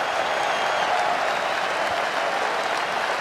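Cricket crowd at Emirates Old Trafford applauding a century in an Ashes Test match, a dense, steady roar of clapping from a large stadium audience that holds for the whole stretch.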